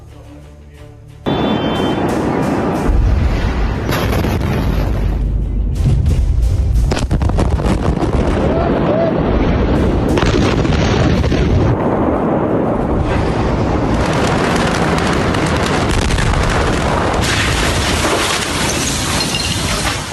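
After a brief quieter moment, the Beirut explosion bursts in as a massive, loud roaring rumble that stays dense and overwhelming, with wind-like blasting noise, for the rest of the recording.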